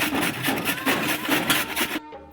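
Fresh turmeric root being grated by hand for a homemade pickle, a continuous close rasping scrape in quick repeated strokes that stops abruptly near the end.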